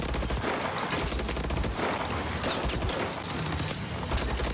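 Rapid, dense gunfire from the video game Call of Duty Advanced Warfare, continuous loud bursts of shots throughout with no talking.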